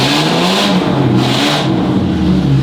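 A car's engine revs up and down through a hand-control accelerator fitted for a wheelchair driver, in a Japanese car setting; a steady, loud mid-pitched roar with two swelling revs, close and continuous.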